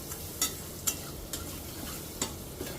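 Dal goes into a hot pan of gram-masala and is stirred, soft sizzling under a series of sharp spoon scrapes and taps against the pan at an irregular pace, close and fairly quiet.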